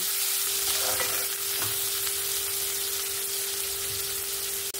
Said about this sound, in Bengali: এখানে দেখুন আমার সমস্ত পেঁয়াজ, টমেটো, কাঁচা লঙ্কা সবগুলো ভাজা হয়ে গেছে সুন্দরভাবে লাল লাল করে।